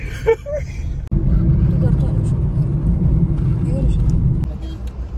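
Heavy traffic on Badlapur road gives a dense, continuous rumble of car engines and passing vehicles, loud and close, with people talking over it and a few sharp knocks.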